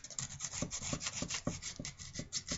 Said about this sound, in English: using my hand and some sandpaper and smoothing everything out